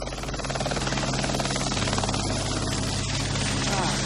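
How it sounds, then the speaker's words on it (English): A steady, loud jet helicopter drone with rotor chop fills the clip, a continuous engine whine running throughout with a faint voice underneath. "A regular visitor, flying his own jet helicopter"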